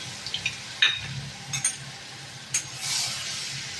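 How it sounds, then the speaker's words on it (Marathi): Raw onion paste frying on a low flame for shev bhaji, a soft, low sizzle with a few clinks and scrapes of a spoon against the pan, close and quiet, with no talking. "कच्चाच कांदा टाकायचा आणि बारीक गॅसवरच आपल्याला हे भाजून घ्यायचं आहे"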